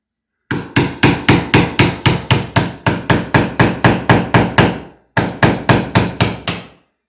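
A hammer strikes into sheetrock to make holes for wall anchors, about twenty sharp, evenly spaced blows in a fast steady rhythm, with one brief pause near the end before a final run.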